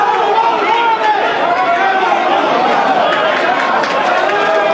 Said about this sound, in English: Crowd is definitely starting to pick up right now with a lot of the action starting to pick up